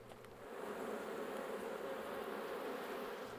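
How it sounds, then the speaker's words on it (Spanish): Honeybees buzz steadily around hive frames lifted from a colony in eastern Cuba, a dense continuous drone that stays faint and even for a few seconds with no voices. "j'ai demandé à prendre des cadres pour mieux observer les abeilles"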